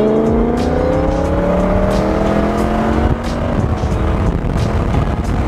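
A 500-horsepower widebody BMW M2 F87 roars loud and close as it accelerates hard, its engine note climbing steadily through the gears with a continuous rasping exhaust and no talking.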